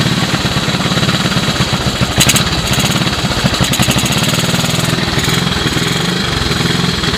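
A 1986 Honda TRX125 ATV, left sitting for years, runs on a cold start with the choke on, giving a steady, close, loud engine chatter with small rhythmic fluctuations throughout.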